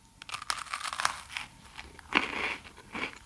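Crunchy toast bitten at a quiet breakfast table, close and crisp, a run of sharp crackling bites followed by a louder crunch and softer chewing.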